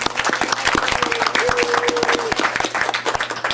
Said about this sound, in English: Let's give a round of applause, everyone.